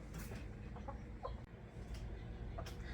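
Backyard hens clucking softly at close range, a few short scattered clucks over a low continuous background rumble, with no talk during them.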